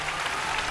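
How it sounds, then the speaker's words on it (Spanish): A short, dense burst of audience applause at an anniversary concert for La Academia, steady and moderately loud with no pauses. "un aplauso para mi niña"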